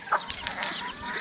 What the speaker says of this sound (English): I've got these chicks here and this broody chicken with them